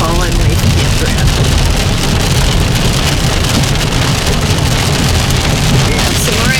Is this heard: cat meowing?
no